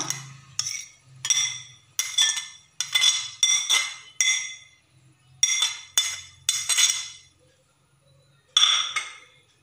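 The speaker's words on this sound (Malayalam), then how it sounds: "എന്നിട്ട് നമ്മൾ നേരത്തെ എടുത്ത് വെച്ചിരിക്കുന്ന മുട്ട ഇതിലേക്ക് ഇട്ട് കൊടുക്കുക" Eggs drop one after another into a bowl, making about a dozen bright clinks and knocks in uneven bursts with short pauses between them.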